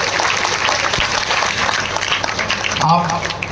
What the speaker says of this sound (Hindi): तो इसके लिए एक जोरदार ताली बच्चों की तरफ से।